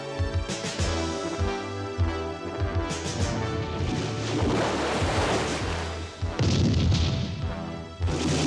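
Cartoon ship cannons fire in a rapid volley of booming blasts and crashes over surging sea water, loud and dense, with a brief gap before a final heavy round.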